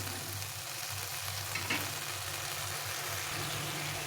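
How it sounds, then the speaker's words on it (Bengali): A spice paste of cashew and melon seeds is fried and stirred in oil, producing a soft, low sizzle with a faint scrape partway through, quiet and steady with no speech. "এটাকে ভালো করে আবার কষে একটু যতক্ষণ তেল না থাকছে ততক্ষণ ভালো করে কষিয়ে নিতে হবে"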